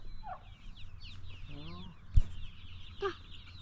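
A turkey gobbles among other fowl outdoors, giving a brief rattling call and a few clucks at moderate distance over faint bird chirps.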